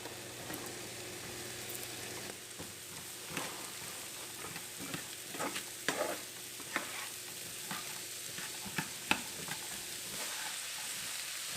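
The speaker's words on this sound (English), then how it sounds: "You're going to allow them to saute for about 3 minutes" Two carrots and three celery sticks sautéing in a pan for ground beef stuffing, a soft, fairly quiet sizzle punctuated by irregular scraping and clicking as a utensil stirs the vegetables, close by with no talking.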